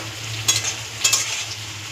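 Malabar spinach from a home rooftop garden sizzles steadily in hot oil in a pan, with two clear bursts of stirring against a constant low frying hiss and no voices.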